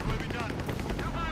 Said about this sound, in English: Machine gewehr has opened up!